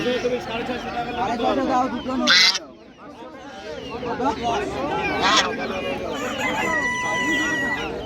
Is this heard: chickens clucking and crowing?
yes